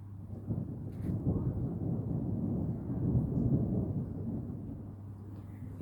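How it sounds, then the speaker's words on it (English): A low, continuous rumble of thunder during a thunderstorm in Wales, rolling steadily for several seconds without a sharp crack, with outdoor wind noise around it. "that that thunder and lightning actually comes from Thor striking his hammer on a giant"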